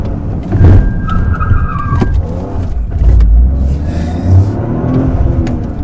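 A Toyota GR Corolla revs hard and accelerates while drifting, its engine note rising and falling in loud surges with a brief whine partway through, close to the microphone and with no talking.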